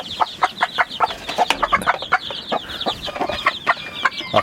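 A broody hen clucks steadily in short rhythmic bursts among her hungry newly hatched chicks, whose thin high peeps overlap the clucks nearby, with no talk.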